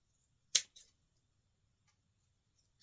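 A pair of scissors snips through artificial flower stems for a monochromatic door swag: one sharp cut followed by a smaller second click, then quiet, with no talking.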